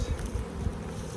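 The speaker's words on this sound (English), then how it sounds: "So those nurse bees come in and keep all that brood warm." Honey bees buzz around an open hive of brood frames during a hive split and inspection, a steady, dense, low drone of many bees close by, with no talk.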